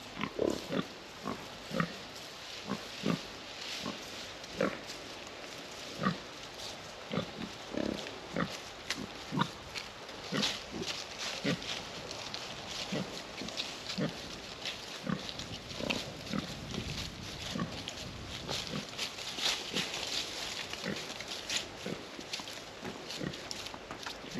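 Pig grunting in an enclosure, a steady run of short snorts and grunts repeating every second or so at close range, with no talking over them.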